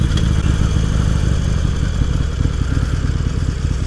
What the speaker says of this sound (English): Looks like we got some bikes here.